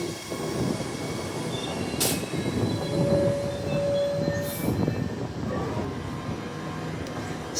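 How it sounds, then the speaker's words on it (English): A Perth suburban train on the High Wycombe service pulls into a station. A close, steady rolling rumble carries a thin wheel squeal midway, with a brief hiss near the start and another near the middle. "here comes 91 on the High Wycombe service now"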